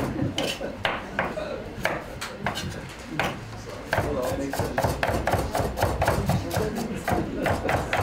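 A knife chops vegetables on a cutting board during a cooking demonstration, with rapid, sharp repeated knocks at a steady, fast rhythm, close and fairly loud.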